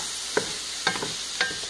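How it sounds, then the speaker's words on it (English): Seasoned vegetables stirred in a hot pan: a steady sizzle with three distinct scraping, clinking stirs of the utensil, close by and with no speech. "give it a good stir"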